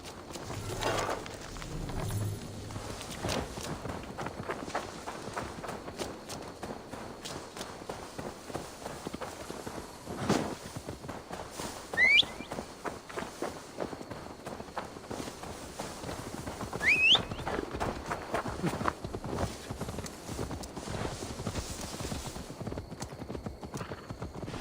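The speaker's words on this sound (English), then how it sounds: "Now to deliver Magni his horse." Steady clip-clop of horse hooves at a running pace throughout, with a couple of brief whinnies rising above the rhythmic hoofbeats, in the video game Assassin's Creed Valhalla.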